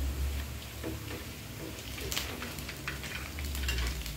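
Pempek Palembang fish cakes fry in oil with a soft, continuous sizzle and faint crackles, heard quietly from nearby.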